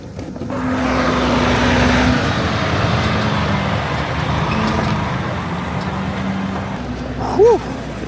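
Steady traffic rumble fills a truck stop in Argentina, with engines idling and passing, a low droning tone, and a short squeal of brakes near the end.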